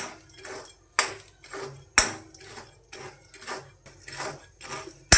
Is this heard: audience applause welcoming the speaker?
no